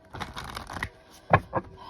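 Tarot cards riffled and shuffled in a few quick bursts, then two short sharp snaps as the deck is bridged and squared, close and fairly quiet.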